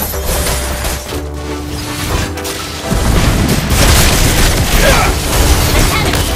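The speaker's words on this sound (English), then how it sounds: "Your team destroyed a turret!" Turret destruction in the Mobile Legends video game bursts into a loud, dense booming explosion partway through, sustained rumble under busy game sounds and a voice line.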